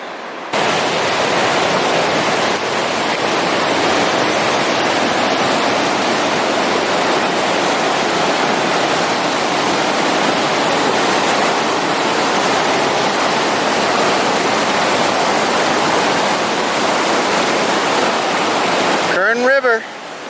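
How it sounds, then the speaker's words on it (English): A river rushes in a loud, constant roar of flowing water that fills the whole stretch, then cuts off abruptly near the end. "River."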